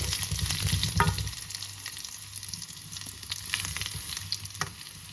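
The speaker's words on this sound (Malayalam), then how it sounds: "നമ്മുടെ ബാലൻസ് ഉള്ള ഉള്ളി, ചെറിയ ഉള്ളിയാണ്, ചെറുതായിട്ടൊന്ന് മിക്സ് ചെയ്തെടുക്കും." Small onions sizzle and crackle in hot oil for a coconut chutney, with occasional scraping stirs of a spoon in a small pan, steady and close, no talking.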